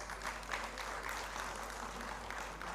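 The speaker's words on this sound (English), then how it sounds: "May we please welcome him with your round of claps" Audience applause at a sustainability education conference plenary session in India, welcoming a speaker to the dais; steady, fairly faint clapping from a crowd throughout, with no voices over it.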